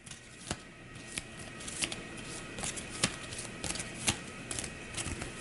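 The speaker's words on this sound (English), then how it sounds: "We'll shuffle these up." A deck of playing cards being shuffled at a tabletop board game session, with repeated short riffling bursts and soft snaps recurring every half second or so, close and fairly quiet.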